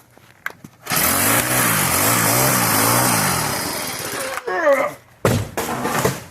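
A Troy-Bilt 30cc edger's small two-stroke engine is pulled and catches, running with a loud, buzzing, uneven idle for a few seconds before sputtering out, followed by further pull-start attempts and a voice speaking.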